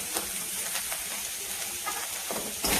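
Steady hiss and sizzle of a spice mixture with turmeric, red chili powder and pav bhaji masala frying in a pan, close and continuous, with a few soft scraping taps and a louder stir near the end.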